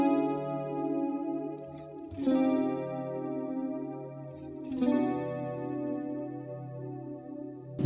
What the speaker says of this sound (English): Chorus would sound like this.